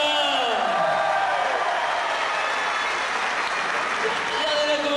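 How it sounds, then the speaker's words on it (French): Spectators applaud steadily at a full contact kickboxing exhibition, a dense, even wash of clapping with scattered whoops, moderately loud and continuous, while voices call out over it. "Vos encouragements, vos applaudissements"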